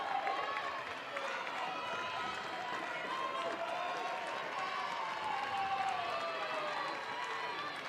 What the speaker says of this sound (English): Home crowd cheering on the Bears.